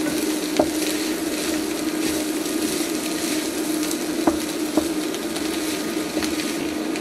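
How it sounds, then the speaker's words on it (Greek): Eggplant and zucchini sizzle steadily in a frying pan with olive oil, with occasional sharp clicks as a utensil stirs them. "Θα επιστρέψουμε στο τηγάνι τη μελιτζάνα και το κολοκυθάκι."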